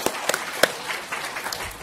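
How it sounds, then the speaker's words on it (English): Brief round of applause from a conference keynote audience in Singapore, a few scattered claps with a soft crowd wash, fairly quiet and short. "we just want to give you a quick round of applause"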